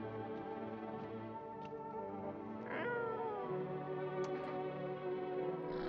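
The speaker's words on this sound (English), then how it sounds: "He reached out and pet the cat." A cat meows in the video game No, I'm Not a Human, with a few distinct drawn-out meows over a steady droning background hum and faint ticking.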